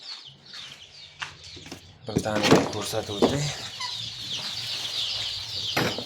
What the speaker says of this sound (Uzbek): mana bu yoqda jo'jalarimiz bor